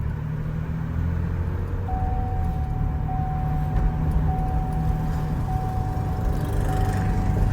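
A 2013 Chevrolet Silverado truck with a misfire pulls away from a stop, its steady low engine rumble filling the cab at moderate level with a faint whine running through it and no talking.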